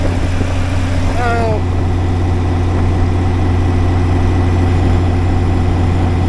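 A Rotec-engined Renegade aircraft idles at about 1,000 propeller RPM, a steady low engine drone running continuously, with a brief higher whine near the start and no speech.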